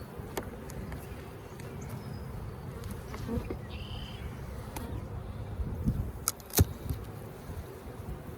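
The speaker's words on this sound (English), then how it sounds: "There's lots of bees up here." Honey bees buzz in a soft, continuous drone nearby during a hive inspection, with occasional clicks and light knocks of handling mixed in.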